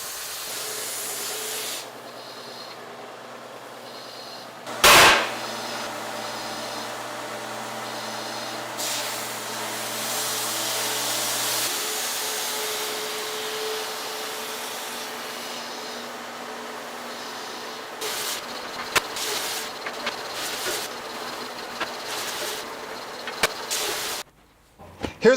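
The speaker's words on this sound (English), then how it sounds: "I'm using an abrasive planer on this." An abrasive planer machines a hydraulic press part with a continuous loud grinding hiss and rushing noise, a sharp burst early on, persisting close for the whole stretch before cutting off abruptly at the end.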